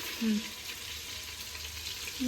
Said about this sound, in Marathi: अशा प्रकारे बटर सगळं गरम झालं जिरे टाकून घ्यायचे